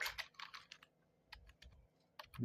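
Keys clatter on a computer keyboard in quick irregular bursts with short pauses between, close and fairly quiet.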